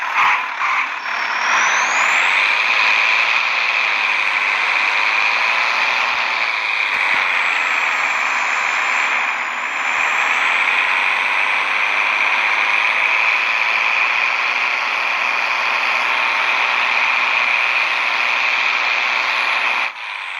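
A tractor engine runs in the Farming Simulator 23 video game, a loud, steady mechanical drone with a constant whine that holds evenly throughout.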